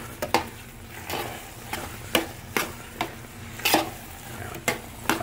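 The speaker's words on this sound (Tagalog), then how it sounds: "haluin lang natin ng haluin po" Sticky rice (malagkit) is stirred in a pot over a fire, with a utensil scraping and knocking the pot in a steady rhythm of sharp strokes roughly every half second over a low crackle.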